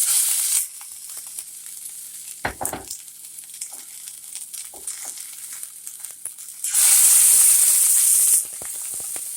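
Food browning in hot coconut oil in a pan, a steady hissing sizzle that swells to a loud burst partway through, with scattered clicks and crackles, no talk.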